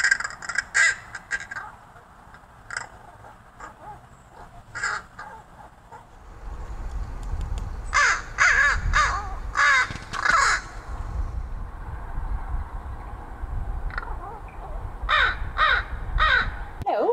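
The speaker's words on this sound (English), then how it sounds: "you can hear it experimenting with its voice and with sounds" A raven perched outside a balcony runs through a varied series of caws, croaks and odd experimental calls in repeated bursts, some spaced apart and others clustered, close and fairly loud over low background rumble.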